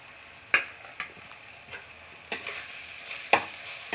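Pabda fish curry masala frying in a pan with dry chilli powder, a soft steady sizzle broken by a few sharp spoon taps and scrapes spread unevenly through the few seconds.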